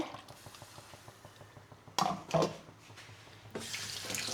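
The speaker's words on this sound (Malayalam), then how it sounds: "അതുകൊണ്ട് കുറച്ച് വെള്ളം കൂടെ ഞാൻ ചേർത്ത് കൊടുക്കുന്നുണ്ട്" Water poured into a pan while cooking a lunch dish with curd, heard as two brief splashing bursts and a later longer pour over quiet kitchen background, with no talking.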